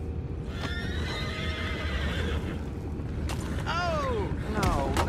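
Horses in the video game Red Dead Redemption 2 whinny and neigh repeatedly over steady hoof clip-clops and a busy background din, with a couple of rising, falling neigh calls toward the end.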